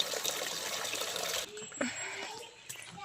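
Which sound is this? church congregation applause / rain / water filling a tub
water filling a tub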